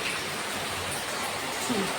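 Steady, dense rain drums on a house roof during a long rainy day, a constant broadband hiss with no pauses, close and fairly loud throughout.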